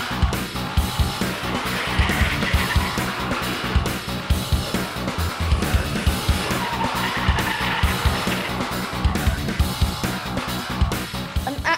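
A car drifting on an airfield course, with an engine revving hard under long, loud tire squeals that rise and fall in repeated bursts, close and continuous throughout.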